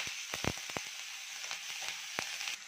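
Tomatoes and tamarind sautéing in a pan for a village-style horsegram chutney give a soft, continuous sizzle dotted with sharp crackles and pops, fairly faint and close, with no talking.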